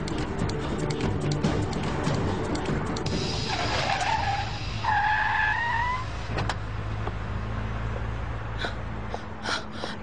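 A car speeds through a chase with a steady engine roar and sharp tire squeals and skids in the middle, loud and continuous, with no talking over it.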